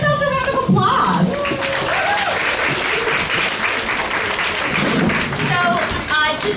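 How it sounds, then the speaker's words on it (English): An audience at a community leadership gathering breaks into sustained applause, a dense wash of many hands clapping for several seconds, with voices calling out and chattering underneath. "Give yourselves a round of applause."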